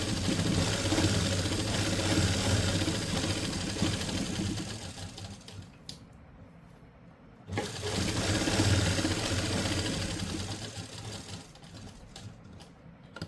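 Electric sewing machine running in steady stitching bursts along a kurti seam, loud and continuous with a brief pause in the middle, no talking.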